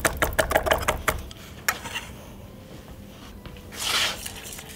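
A knife rough-chopping fresh dill on a board, a fast run of close, crisp taps in the first second, then scattered softer thuds and scrapes, no talking.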